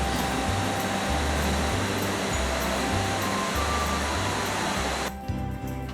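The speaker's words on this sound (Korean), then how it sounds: "물살이 무척 우렁찬데요?" A glacier-fed waterfall in Alaska roars steadily and loudly, a dense continuous wash of noise that drops off abruptly near the end.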